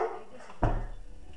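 A dog barks once indoors, a single sharp bark partway through, heard behind electronic game sound and fading quickly.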